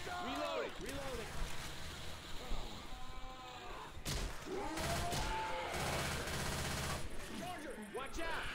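Rapid gunfire bursts and chattering automatic weapons from a Left 4 Dead co-op zombie game, loud and nearly continuous across the whole stretch, layered with sharp impacts and voices calling out over the shooting.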